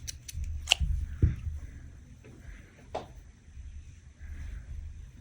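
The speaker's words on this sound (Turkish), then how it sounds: "Şimdi ipimizi kesiyoruz." Scissors cut yarn during sweater knitting, giving a few sharp close snips spread over a quiet background.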